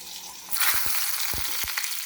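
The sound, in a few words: fenugreek and mustard seeds sizzling in hot oil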